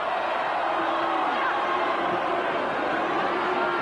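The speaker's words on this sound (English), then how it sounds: "Crowd hooting for a possible forward pass." A dense crowd of about 20,000 mostly Canterbury supporters roars and hoots at a 1993 Winfield Cup rugby league match between the Canterbury Bankstown Bulldogs and the Canberra Raiders, a steady broad wash of noise throughout.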